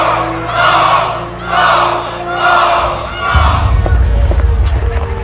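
Reenacted crowd of Boston rebels shouting for mob action, rhythmic swelling chants rising and falling about three times, loud and close over a low drone, then a rumbling surge of noise.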